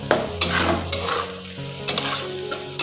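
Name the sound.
cashews and raisins frying in a pan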